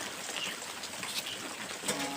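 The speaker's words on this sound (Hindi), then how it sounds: "इतनी तूफानी बारिश है" Heavy stormy rain pours down on a village outdoor kitchen with a thatched roof while flatbread is being cooked, a steady broadband hiss of drops at fairly loud level, no voices.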